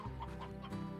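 Farmyard hens in Slime Rancher, among them stony and briar hens, cluck in a busy, low, continuous chorus with several soft clucks layered together at moderate distance.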